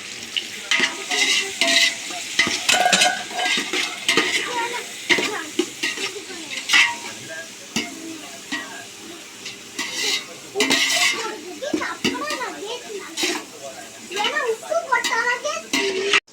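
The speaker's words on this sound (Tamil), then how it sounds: "வெங்காயம் போட்டுக்கலாம் வெங்காயம் போட்டு நல்லா கலரி விட்டுக்கலாம்" Onions for chicken biryani fry in a hot pan, sizzling under repeated scraping stirs of a metal spoon against the pan, with uneven bursts of clatter; a person talks throughout, close by.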